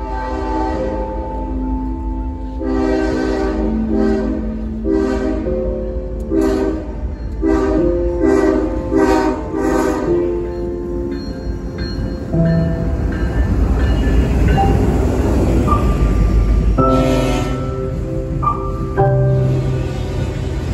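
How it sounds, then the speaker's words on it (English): A Norfolk Southern intermodal freight train led by the Pennsylvania heritage locomotive passes loudly nearby, its horn sounding in repeated long blasts over the continuous rumble and clatter of the wagons. "Daily Intermodal Norfolk Southern at 28R has NS8102 leading the Pennsylvania Heritage"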